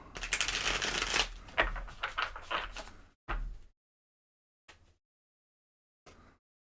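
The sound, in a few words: tarot cards being shuffled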